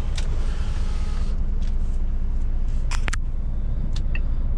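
A car cruises on a long highway road trip to Krasnoyarsk, its steady loud engine and tire rumble heard from inside the cabin, with a few faint clicks and no talking.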